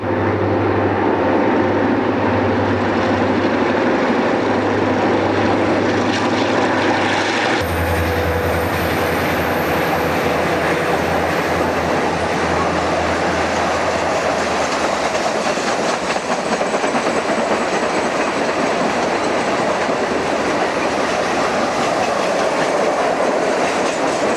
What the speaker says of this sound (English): The northbound number 477 blows a warning as it nears the C&O Bridge overpass.